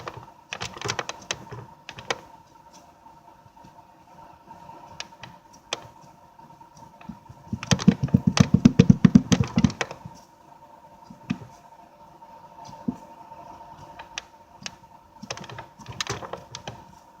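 Homemade Play-Doh slime is squished and worked by hand, giving soft, close clicking and popping squelches in scattered bursts, with a busier stretch in the middle.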